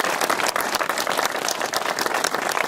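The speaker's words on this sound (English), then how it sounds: "So a little round of applause." Crowd at an outdoor Penguin Plunge charity event applauds veterans with steady, dense clapping from many hands, sustained and fairly loud with faint cheering underneath.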